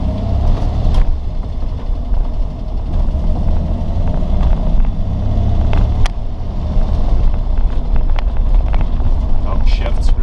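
A 1978 Ford Mustang II with a 2.8 liter V6 and manual clutch drives along, its engine a loud, continuous low rumble heard from the cabin amid wind buffeting, with a voice talking over it.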